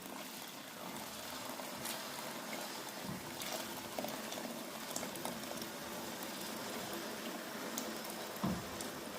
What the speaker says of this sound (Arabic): هنا عندنا مية مغلية بنديره على الرز.